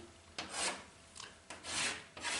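Shaper cutting tool rubbing and scraping across the workpiece on its return strokes, a rhythmic series of four or five rasping swipes heard up close with no talking.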